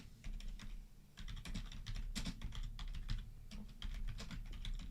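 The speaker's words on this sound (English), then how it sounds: "typing something in." Fingers tap rapidly on a computer keyboard, a quiet, close run of clicks in irregular bursts with a short pause, over low background hum.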